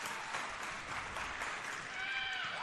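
Crowd at a women's college volleyball match, Tampa at Rollins in 2022, cheering and clapping in a steady, fairly faint wash of applause that fills the hall.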